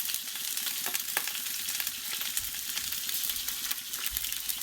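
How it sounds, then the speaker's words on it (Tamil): Onions and asafoetida frying in a pan with whole tomatoes for tomato chutney, a steady close crackling sizzle with small pops and light stirring clicks, no voices. "முழுசாக அப்படியே போட்டு நம்ம ஃப்ரை பண்ண போகிறோம்"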